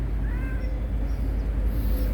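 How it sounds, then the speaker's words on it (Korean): A cat at a tunnel café in Korea gives a couple of faint, rising meows over a steady low background hum, brief and fairly soft. "야옹 야옹 문질르는 거봐"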